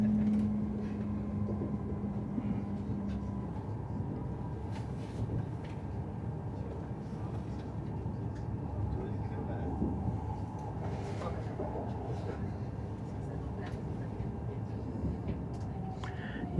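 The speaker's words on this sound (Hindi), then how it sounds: "ब्रेक्स अप्लाई हो चुकी हैं, स्पीड बतदरीज कम होती चली जा रही है" A Beijing–Shanghai bullet train, rated for 350 km/h, brakes and slows toward Shanghai station, heard from inside the carriage as a continuous low rumble with a faint fading tone early on.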